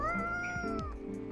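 A cat meows in the video game Coffee Talk Episode 2, two short, close mewing calls in quick succession over a steady musical backdrop, with no talking.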